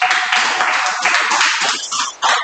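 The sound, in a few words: class clapping for a student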